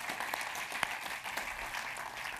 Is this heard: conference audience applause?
yes